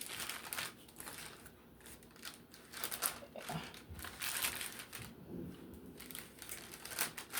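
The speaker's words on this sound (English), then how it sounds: "I'm just gonna come out and just crush right up." Paper crinkles and crunches under a pressing hand as homemade Grape Nuts cereal dough is flattened for baking, in close, fairly quiet, irregular bursts.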